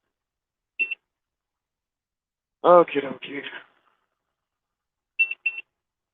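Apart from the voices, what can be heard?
computer beeping in background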